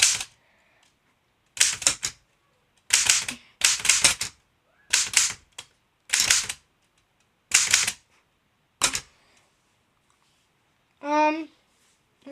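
Manual typewriter keys strike in short rapid bursts separated by pauses, each cluster crisp and close, ending with a ringing bell-like chime near the finish.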